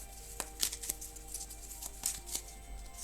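Tarot cards are shuffled and drawn during a reading, heard as faint, scattered papery flicks and soft snaps spread across a quiet room.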